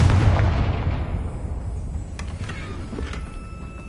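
A Confringo spell detonates in Hogwarts Legacy with a heavy booming explosion that rolls off gradually, trailed by a few small crackling pops as it fades.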